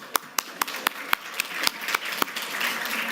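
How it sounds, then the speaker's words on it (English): A small group applauds at a conference, opening with several distinct, well-spaced sharp claps that thicken into steadier clapping near the end. "I just want to give them a little round of applause."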